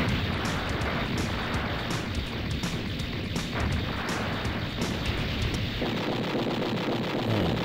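Weapon fire and explosions in the 1992 Taito arcade shooter Gun Buster form a dense, continuous barrage of rapid blasts and booms under thick game noise, with no talk.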